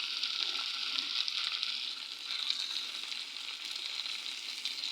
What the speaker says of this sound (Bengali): তারপর দিয়ে দিচ্ছি টমেটোগুলো একটু ভালো করে ভেজে নেব